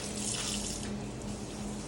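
Water runs steadily from a tap into a sink as hands are washed, a close, continuous hiss and splash at low level with no speech.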